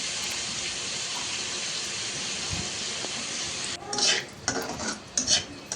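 Chopped cucumber pieces tossed into a hot pan and stirred while cooking a dosakaya pachadi, with a steady sizzling hiss followed by several clattering scrapes of a spoon against the pan.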